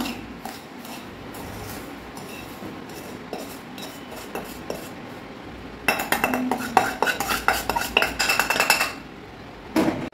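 Golden-roasted semolina (rava) being scraped from a cooking pan onto a plate for Diwali rava laddoos, metal utensil scraping and clinking against steel, growing louder and busier in the second half.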